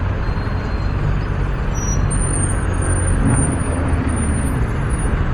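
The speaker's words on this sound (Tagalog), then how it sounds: "Traffic, grabe." Heavy road traffic heard from a motorcycle in slow congestion: a steady, loud engine and road rumble with a thin high whine above it. No talk is heard.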